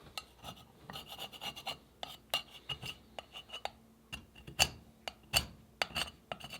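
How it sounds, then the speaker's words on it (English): Fine 220 grit sandpaper scrubbing years of grime off the inside surface of a part on a broken-down bobber motorcycle, heard as close, uneven rasping strokes in quick irregular bursts with no talking. "I'm just hitting the inside of this surface here with some 220 grit sandpaper, just to get off years of grime"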